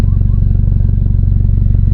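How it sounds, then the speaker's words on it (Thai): Loud, steady low rumble of a Honda Jazz GK engine idling close by through an AZC titanium exhaust tip, with an even, pulsing throb and no talking. "ตอนนี้เสียงเดินเบา"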